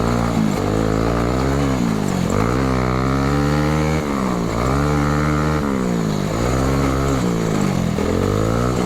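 Bajaj Pulsar NS 220 motorcycle engine revving up and down repeatedly, loud and close, with steady rising and falling pitch sweeps and no talk.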